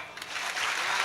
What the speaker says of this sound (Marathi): एकदा मोकळ्या टाळ्या वाजवा.